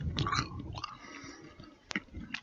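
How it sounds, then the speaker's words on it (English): Close, crisp crunching from a few bites and chews of baked zucchini chips, with short sharp cracks between quieter moments. "Here's the sound of the crunch from the baked zucchini chips."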